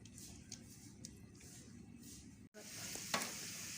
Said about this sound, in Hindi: इधर हम प्याज को लाइट ब्राउन कर लेंगे।